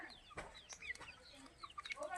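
Free-range chickens kept naturally on a farm cluck softly and intermittently, a few short clucks and chirps heard faint and at a distance against a quiet background.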